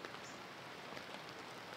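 Rain falls at a campsite on a night in the Canadian Maritimes, a soft, even patter and hiss of drops on surfaces, faint and continuous with no voices.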